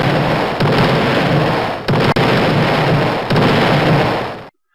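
A shot-detected alert from camera system software repeats as loud, sustained noisy bursts, three blasts with brief gaps before cutting off to silence.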